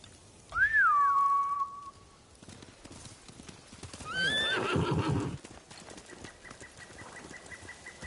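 Samurai horses in the Ghost of Tsushima video game whinny loudly and bolt away, with a second neigh and rushing hoofbeats midway before the sound fades to quiet background ambience.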